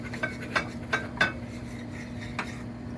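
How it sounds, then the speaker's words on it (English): A knife slices through homemade gyros meat, giving a few short, light scrapes and taps against a cutting surface over a steady low hum, fairly close and with no talking. "So I'm going to keep slicing here."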